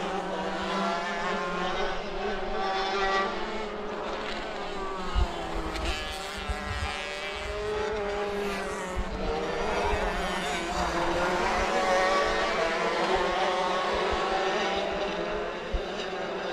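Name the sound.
racing karts driving around a track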